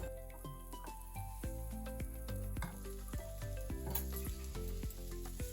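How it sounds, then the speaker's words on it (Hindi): Boiled, cut potatoes fry with spices in a pan for a dry spiced potato dish, giving a steady, close sizzle that runs beneath background music. "तो यहाँ पर उबले कटे हुए आलू डाल देते हैं।"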